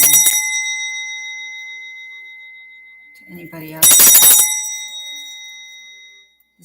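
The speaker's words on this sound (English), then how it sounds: "This is a brass bell I got in Santa Fe that has a really high vibration." A high-pitched brass bell from Santa Fe is struck, and its clear tone rings out and slowly fades. A second strike follows, briefly overlapping a spoken voice, then decays.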